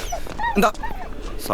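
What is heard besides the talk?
dog whimpering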